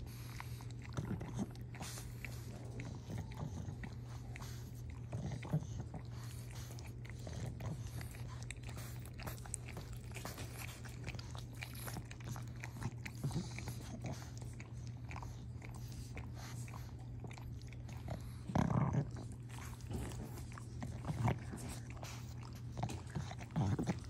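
A pug has her ears licked, giving a steady stream of soft, wet licking and smacking sounds close up over a low constant hum, with a few louder slurps near the end.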